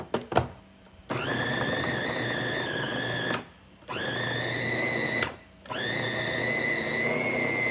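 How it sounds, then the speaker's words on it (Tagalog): A food processor grinding sliced meat runs in three loud, steady whirring bursts, separated by short pauses, with a few clunks at the start and no talking. "ipapadaan natin to sa food processor para magiling"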